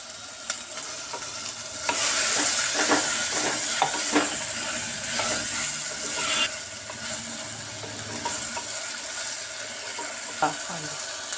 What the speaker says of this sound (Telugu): మూత పెట్టుకోవాలి, నూనెలో ఉడకాలి.